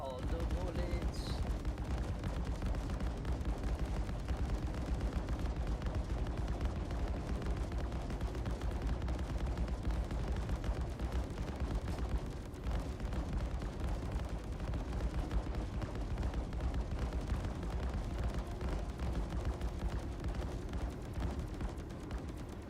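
Hammerhead ship weapons in Star Citizen fire in a long, continuous barrage, a dense roar of rapid gunfire and heavy booms that stays loud and steady throughout.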